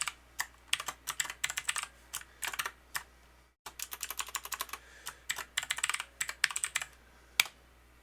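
Rapid clicking keystrokes on a computer keyboard, close and crisp, come in irregular bursts with a brief pause midway, no voices present.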